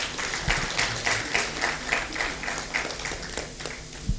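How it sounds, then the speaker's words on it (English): Crowd applause at a scientific conference awards ceremony, with scattered claps rising and falling at a moderate distance, sustained for a few seconds without speech. "Another round of applause."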